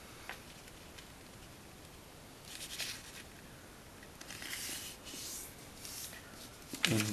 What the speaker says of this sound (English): Now turn it over and fold it diagonally.